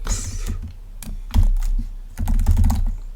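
Computer keyboard typing, close and clear, with quick irregular bursts of key clicks separated by short pauses and no voice.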